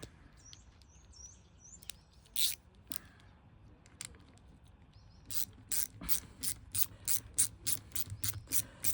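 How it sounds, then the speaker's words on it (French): Ratchet wrench with a small extension, worked on a Bernard W 110 engine, gives a fast run of sharp, close clicking bursts, scattered at first and then rhythmic, with faint bird chirps in the background. "Clé à cliquer avec petite rallonge."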